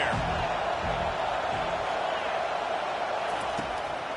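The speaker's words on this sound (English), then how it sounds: "this crowd trying to help keep them there" Dense, steady roar of a packed football stadium crowd during a third-and-long play, loud and continuous throughout with bursts of cheering and a commentator's voice in the mix.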